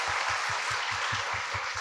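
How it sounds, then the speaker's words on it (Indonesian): An audience gives steady, rhythmic applause for the leaders present at a university gathering, a dense wash of clapping with a regular beat under it. "Kita berikan aplaus dulu untuk para pimpinan yang hadir di sini"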